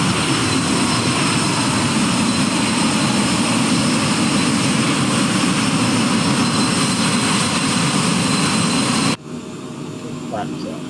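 Loud, steady roar of an airliner's jet engines at climb power just after takeoff with gear up, filling the cabin as a constant broadband drone before cutting off abruptly near the end.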